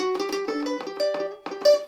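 A mandolin is picked out over the neck for a muddy, mellow tone. A short run of a dozen or so soft, rounded plucked notes with uneven spacing, played up close with no voices.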